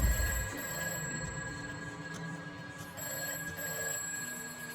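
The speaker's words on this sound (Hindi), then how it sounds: "एक लैंडलाइन की बजने की घंटी सुनाई दी जो उसी स्टोर रूम से आ रही थी।" A landline telephone in a store room rings steadily with a bright, sustained electronic trill, fairly clear and close, with no voices.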